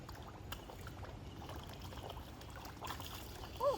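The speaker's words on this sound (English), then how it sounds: "Oh, he splashed me." Water splashing around people during island hopping in the Philippines, light trickling and sloshing with small splashes near the microphone and a brief voice near the end.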